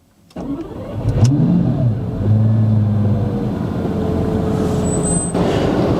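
A twin-turbo E85 Lamborghini Superleggera cranks briefly and fires up, followed by a couple of sharp revs that rise and fall before settling into a loud, steady idle close by on a dyno.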